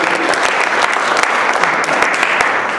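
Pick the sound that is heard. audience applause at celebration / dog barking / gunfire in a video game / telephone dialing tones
audience applause at celebration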